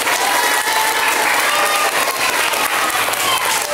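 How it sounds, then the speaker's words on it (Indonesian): An audience of schoolchildren at a Ramadan Islamic boarding-school program gives a teacher a loud, sustained round of applause, steady dense clapping with faint cheering mixed in. "Dan kita kasih tepuk tangan sekali lagi buat Bu Novit."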